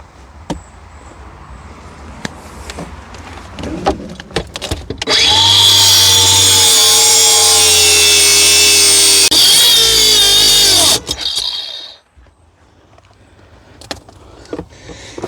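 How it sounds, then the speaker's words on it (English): An angle grinder cutting through a boat's steering cable, a loud close whining grind lasting several seconds after scattered handling knocks, then dropping back to quiet clatter. "we're going to cut the steering cable itself so that I can free up this whole inner transom assembly"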